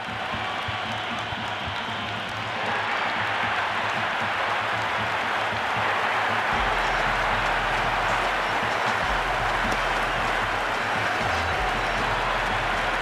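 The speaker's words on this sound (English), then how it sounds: "You can really feel the buzz around the spectator areas." A cricket stadium crowd in the video game Cricket 26, in a Sri Lanka vs Pakistan match, sends up a dense, continuous roar and clapping-like buzz that swells after a few seconds and holds steady.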